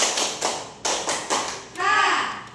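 A class of children clap together in a rhythmic spirit clap, a run of crisp unison claps followed by a brief shouted chant from the group.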